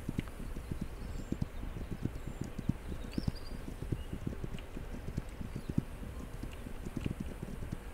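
A horse's hooves clip-clop at a steady, quick rhythm in the game This Land Is My Land, faint and continuous without talk.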